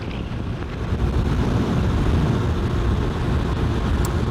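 A Lifan KPX 250 motorcycle runs at about 110 km/h at half throttle, a steady loud roar of wind and engine with no letup and no speech.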